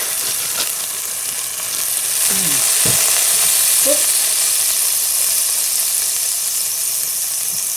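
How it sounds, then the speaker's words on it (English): A 3 to 4 pound beef pot roast searing in a hot pan, a loud, even sizzle with a couple of brief clunks as the meat settles. "And in goes your 3 to 4 pound pot roast."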